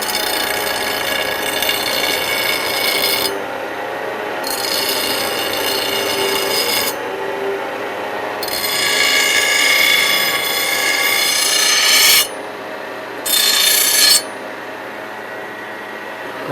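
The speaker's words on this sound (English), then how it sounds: "first of all, I have to take and round these edges here before I start" A power sander or grinder rounds the edges of a steel knife blank in loud bursts of harsh rasping, with short pauses between passes and a faint hum running under the gaps.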